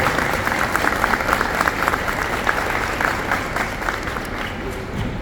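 Audience applause at a literary festival, a dense steady patter of many hands clapping throughout, fairly loud and close with some crowd murmur beneath.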